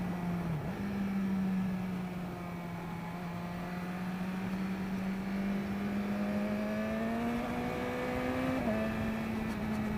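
A big motorcycle leans through tight, twisty roads, its engine droning loud and steady throughout, pitch rising gradually as it accelerates before a brief dip near the end.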